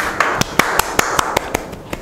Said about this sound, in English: Please clap your hands for yourself